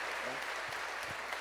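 A congregation applauds during a church worship service, a dense, steady wash of clapping that holds evenly throughout at a moderate, slightly distant level.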